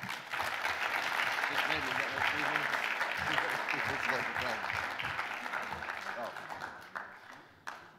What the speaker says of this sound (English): Another round of applause for Wolfgang Mueller